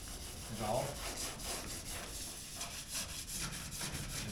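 A 600-grit sanding block rubs by hand over the paint of a 1982 air-cooled VW Vanagon Westfalia, making close, steady, repeated scratchy strokes with no talking.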